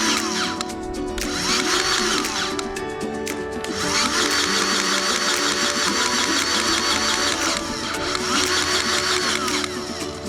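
Grease gun pumping grease into a loader fitting on a Case IH 75C tractor, a steady close mechanical whirring and clatter running continuously with rhythmic surges.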